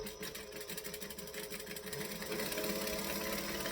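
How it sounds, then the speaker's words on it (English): A sewing machine basting stitches right at the edge of a handmade triangle bag, a close, steady rapid whir and clatter that picks up speed slightly toward the end, with no voices. "So I'm just going to stitch right at the very, very edge."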